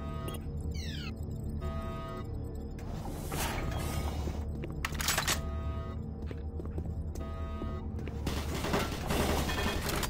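Automatic turret in Doom 3 firing in rapid bursts, a dense rattle of shots with whooshes and thuds layered over steady game noise, with a chirping alert tone near the start.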